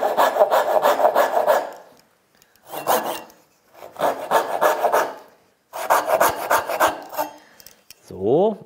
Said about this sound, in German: Wir sägen einfach mal los.